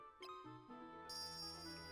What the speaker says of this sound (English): The bell rang beautifully and the door opened.